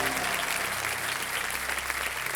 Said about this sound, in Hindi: जोरदार तालियां बज जाए एक बार जनता की।